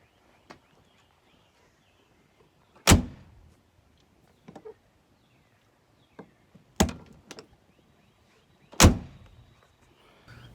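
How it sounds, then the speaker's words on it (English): Doors of a Volkswagen being shut one after another, three loud solid thumps spaced a few seconds apart with faint clicks and handling noises between them, close by. "When was the last time you heard a set of doors shut like this?"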